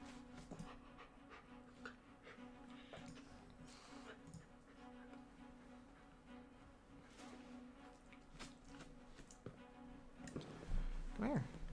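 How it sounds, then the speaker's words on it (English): A puppy pants quickly and steadily close by, faint and low in level, while a person talks over it. "Look at that. That's a puppy."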